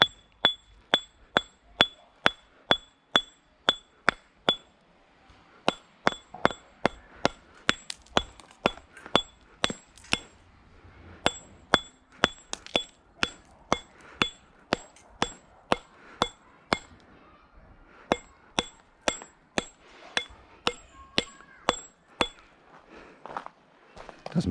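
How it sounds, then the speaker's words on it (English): Repeated sharp metallic taps of a hammer chipping at a paving block, a steady rhythmic series of close, ringing strikes. "if I can just do this with the brick hammer"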